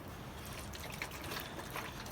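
Water mixed with high-phosphorus fertilizer trickles steadily from a container onto the soil around a freshly transplanted tomato, a soft continuous pour heard close up with no talking.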